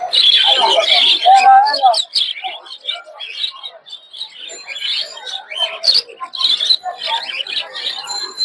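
Many small caged birds chirp and tweet densely and continuously at a busy bird market in Tongi bazar, with a lively, overlapping chorus that stays fairly loud throughout.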